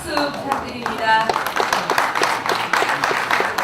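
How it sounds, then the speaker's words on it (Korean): An audience of National Assembly members at a Liberty Korea Party retreat claps for a Sookmyung Women's University professor after his lecture, giving scattered, uneven applause with distinct individual claps while someone speaks over it. "다시 한번 교수님께 큰 박수 부탁드립니다"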